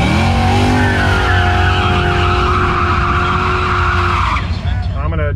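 A Fox body Mustang on drag radials spins its tires, a loud sustained squeal with steady engine roar running about four seconds before easing off near the end.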